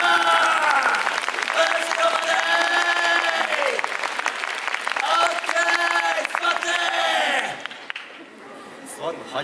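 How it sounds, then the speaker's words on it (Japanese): Theme park audience at a Universal Studios Japan show claps in a long, loud wave of applause with crowd noise and cheers, sustained for several seconds before thinning out toward the end. "前から後ろに向かって拍手ウェーブ開始"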